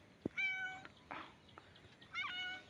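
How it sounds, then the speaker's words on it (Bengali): A pet cat meows twice, close and clear, with a short soft sound between the two calls; the harmonic cries are separated by a brief pause, and no one speaks. "দেখুন বিড়াল আদর চায়। মেও"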